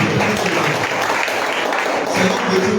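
A church congregation bursts into loud, sustained applause and cheering acclaim for Jesus, dense and continuous for the whole few seconds, with voices mixed into the clapping.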